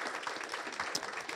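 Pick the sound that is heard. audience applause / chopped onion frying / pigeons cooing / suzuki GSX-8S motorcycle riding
audience applause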